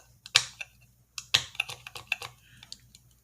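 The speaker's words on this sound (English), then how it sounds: "now I'm going to go ahead and cut these birdies with the X-Acto knife" An X-Acto knife snipping plastic parts off a model kit sprue for a Tamiya RC truck build: a couple of sharp snaps followed by a quick run of small, light clicks close by, with no talking.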